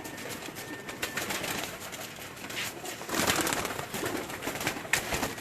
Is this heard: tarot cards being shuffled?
no